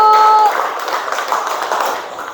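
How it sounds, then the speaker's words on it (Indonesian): Schoolchildren in a classroom break into a short burst of clapping, a bright scattered patter of small hands that fades away after about two seconds. "Tepuk tangan dulu anak-anak ibu."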